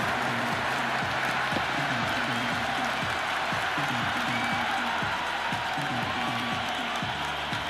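Stadium crowd in the Cricket 26 video game, a constant broad roar of cheering and applause running steadily throughout, with rhythmic chanting or drumming patterns beneath it.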